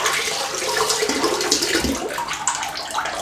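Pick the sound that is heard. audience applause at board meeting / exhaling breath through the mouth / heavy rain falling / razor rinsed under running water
razor rinsed under running water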